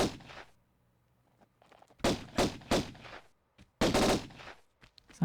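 Pistol shots fired in Tomb Raider, landing as a handful of sharp, loud bursts in two clusters separated by quiet gaps, with faint thuds in between.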